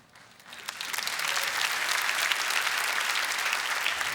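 TEDx audience applause, a full crowd breaking into steady, dense clapping that swells within half a second and holds loud and even to the end, with no voices on top.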